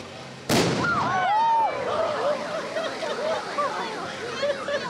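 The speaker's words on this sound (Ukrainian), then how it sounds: "початок славетного Покровського ярмарку на Запорожжі пострілом з козацької гармати" A single sharp boom from a Cossack cannon goes off close by, opening the Pokrova fair in Zaporizhzhia, followed by a crowd of voices calling and shouting.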